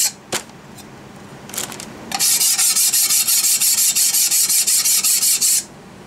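Rapid rhythmic rubbing of a wet plate collodion plate being polished by hand, a steady burst of close, bright rasping strokes lasting a few seconds after a couple of brief scrapes.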